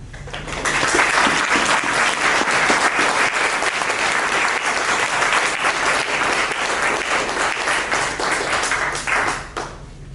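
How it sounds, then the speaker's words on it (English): Sustained audience applause after a synagogue conversation event, a dense wash of many hands clapping at steady volume for nearly ten seconds before tapering at the end. "let's give them another round of applause"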